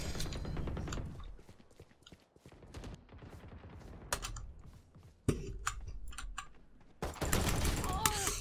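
Video-game gunshots ring out as scattered sharp cracks and short volleys, separated by quieter stretches with mechanical clatter, growing louder and denser toward the end.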